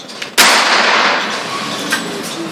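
An air pistol fires a pellet as a single sharp, loud crack, followed by a fading noisy tail.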